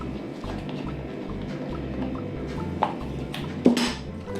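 Onion mixture for chicken cutlets beaten in a bowl, a steady rhythmic tapping of utensil against the bowl with soft wet churning and a couple of sharper clinks near the end.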